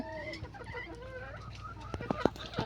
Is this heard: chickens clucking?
yes